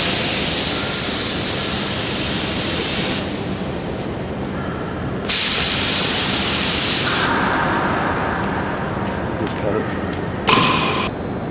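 A spray gun lays guide coat onto a car panel in long hissing bursts, loud and close, with short pauses between passes and a soft thump near the end.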